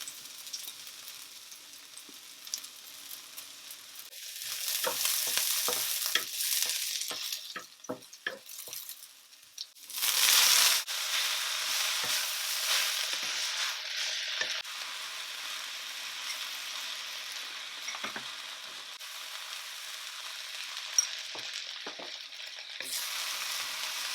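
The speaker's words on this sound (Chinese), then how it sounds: "锅烧热之后加油，然后倒入蒜末跟葱末炒香。" Minced garlic and scallion stir-fried in hot oil in a heated pan crackle and sizzle steadily, with scraping stirs and a sudden louder hiss partway through, then settle back into an even fry.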